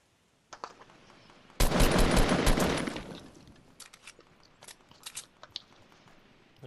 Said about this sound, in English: I hear sniper fire.